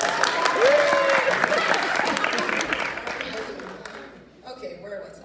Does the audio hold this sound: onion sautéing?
no